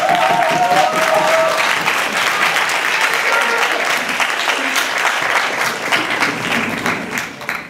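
A large audience at a debate final bursts into sustained applause, loud dense clapping that starts full and gradually thins and fades, with a brief high tone at the very start.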